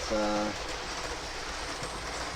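Trains circling a track give off a continuous low rumble with soft clickety-clack, opening with a brief tonal hum, steady and fairly quiet throughout.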